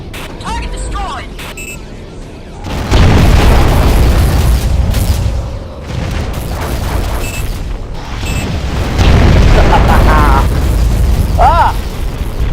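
A destroyed target exploding in the underwater video game AquaNox, heavy booming blasts with rumbling low end over mechanical hum, swelling twice, with a voice speaking briefly.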